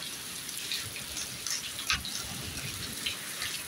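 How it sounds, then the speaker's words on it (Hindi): Steady heavy rain hisses in a dense wash during a thunderstorm with hail in Jaunpur, with scattered drops spattering nearby and no voices. "बिजली चमक के साथ कड़क के साथ मूसलाधार बारिश"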